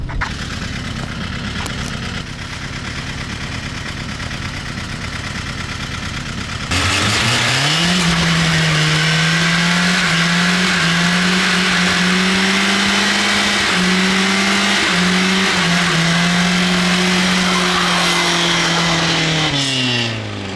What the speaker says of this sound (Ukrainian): А давайте зробимо бюрнаут, а?